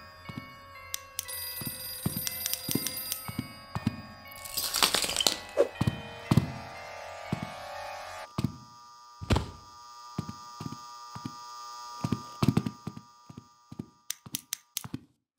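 A timer in the horror video game The Classrooms ticks in sharp, evenly spaced thunks, with a noisy burst of game sound partway through before the steady ticking resumes alone.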